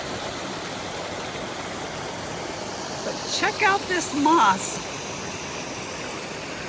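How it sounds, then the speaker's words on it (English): Steady broadband rush of a flowing creek beside a North Cascades trail, continuous and fairly close, with someone briefly talking over it midway. "So we first come to the creek"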